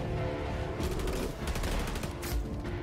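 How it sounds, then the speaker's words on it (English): Dense, continuous gunfire from the S.T.A.L.K.E.R. 2 game trailer comes through loud and close, with rapid bursts and booming shots stacked over a heavy rumbling soundtrack and no pauses. "Lots of shooting though."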